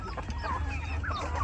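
Large chickens, including Brahma fowl, clucking steadily in a front yard vegetable garden, several birds close by with a low rumble underneath and no talking.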